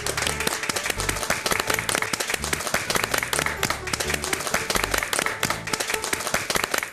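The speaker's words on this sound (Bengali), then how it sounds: "আসুন আমরা সবাই মিলে ডক্টর মৈত্রের সেই ফাইটিং স্পিরিটটাকে হাততালি দিয়ে সম্মান জানাই" Dense, sustained applause from an audience at a televised ceremony honouring a doctor, steady loud clapping filling the whole stretch with a busy crowd texture and no break.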